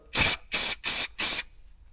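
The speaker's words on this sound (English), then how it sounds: "so let's get spraying, give it a shake first" An aerosol can sprays a coating onto the wheel arch of an Audi RS4 in four sharp hissing bursts, each about a quarter second long, with brief gaps between them, loud and close.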